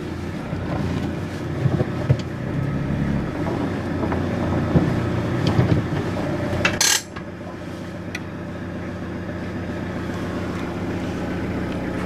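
Renault Master van idling while being parked, a steady close mechanical engine drone with ratcheting, clattering texture that abruptly drops to a quieter hum after a brief clunk.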